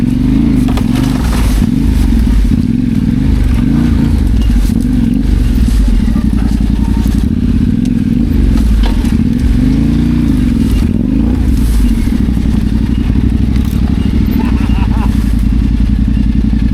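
A motorcycle engine runs roughly and unevenly while riding along dirt tracks, a loud, continuous low rumble with rattling clatter and surges of revving that persist throughout, with voices heard over it.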